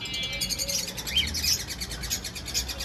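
Fischer's lovebirds chirping nearby, a dense stream of high, rapid twittering calls overlapping one another.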